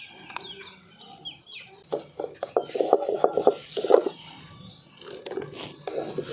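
Thick pea paste being fried and stirred in a pan, with scraping, clattering spoon strokes against the metal in irregular bursts over a low background hiss, fairly close.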